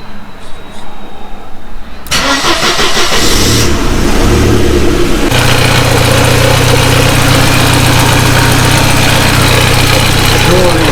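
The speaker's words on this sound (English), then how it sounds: "let's start the car" A Mercedes 190E cranks and catches at about two seconds, then revs loudly and settles into a steady, rough idle; voices can be heard over the engine in the opening moments.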